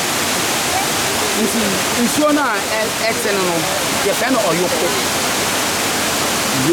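Fuller Waterfalls in Ghana send out a steady, full roar of rushing water that stays loud and constant, with people talking over it.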